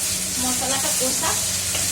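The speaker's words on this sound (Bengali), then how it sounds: "মশলাটা কষা" Spice masala fries and is stirred in a pan, a steady close sizzle with soft scraping strokes running throughout.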